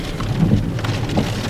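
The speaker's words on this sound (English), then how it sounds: "Rain stopping." Heavy rain pounding during a tornado storm in Dodge City, Kansas, a dense loud roar of drops with low rumbling underneath, steady throughout the brief moment.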